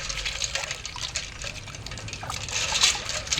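Snails are swirled and rinsed in a vessel of water for a coastal village-style snail curry, giving a close, continuous sloshing and trickling with a few louder splashes.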